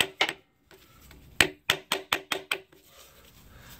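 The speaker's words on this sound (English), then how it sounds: "I'm hitting this with a hammer and this putty knife, and it's really taking a lot to cut this loose." A hammer striking a putty knife wedged against a stuck oil pan gasket on a Dodge Ram, two sharp metallic hits, a pause, then a quick run of five or six rhythmic close blows.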